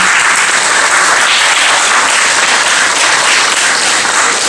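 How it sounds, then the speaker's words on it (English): Loud, steady applause from a large crowd at a fifth grade graduation, a dense wash of clapping that holds evenly throughout. "Let's give them a round of applause."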